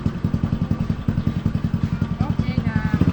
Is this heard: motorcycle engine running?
yes